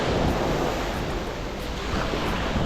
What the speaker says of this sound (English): We have some pretty cool waves over here.